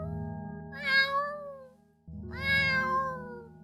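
A human voice imitates confused cat noises with two drawn-out, wavering meows, each rising and bending in pitch, separated by a short gap over a low background hum.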